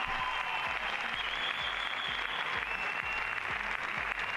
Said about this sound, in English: Crowd very happy.